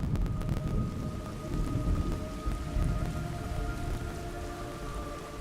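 Steady, dense rain falls with a low rolling thunder rumble underneath in the video game Metal Gear Solid Delta, continuous and fairly loud with no voices.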